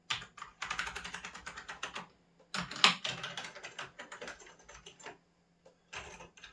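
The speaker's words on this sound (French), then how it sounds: "On va tester clavier parce que vu comment je l'ai remonté." Typing on a restored Amiga 2000 computer keyboard: rapid, close clattering keystrokes in quick bursts separated by brief pauses, with no talking.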